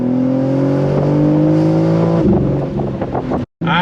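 A 2024 BMW M4 Competition accelerating hard in second gear, its engine droning loud and rising steadily in pitch from inside the cabin, then dropping briefly before a short gap.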